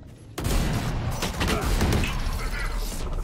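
Rapid bursts of Valorant gunfire crackle continuously and loudly, with a short quiet lead-in before the volley starts.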